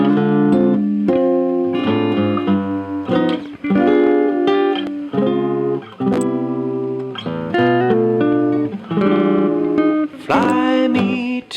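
Solo guitar plays a chord melody, with clear plucked chords and single melody notes ringing one after another in a slow, close, steady phrase.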